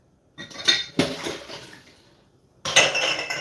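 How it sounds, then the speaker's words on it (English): A dirty metal cheese grater is washed at a kitchen sink, giving bursts of clattering and clinking against dishes with a little running water, separated by a quiet pause. "I can wash a cheese grater."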